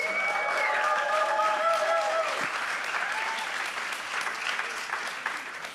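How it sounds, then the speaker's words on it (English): A round of applause at a Volt Europa general assembly for a German member of the European Parliament: loud, sustained crowd clapping throughout, with a brief tonal sound early on and the clapping tapering slightly near the end. "Can I have a round of applause, please?"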